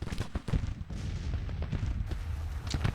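A four-gun artillery battery fires in a Civil War strategy game, deep booming reports overlapping in quick succession with a rumbling low-end wash throughout.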